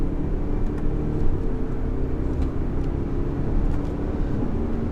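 A 2018 BMW X4 20d diesel SUV driven hard in manual mode, a steady low engine drone and road rumble heard from inside the cabin, with no speech.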